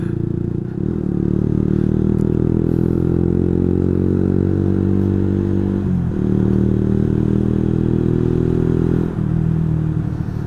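Honda CS1 motorcycle riding along, its engine humming steadily up close with a brief dip in revs as it shifts gears, a constant droning ride with no talk.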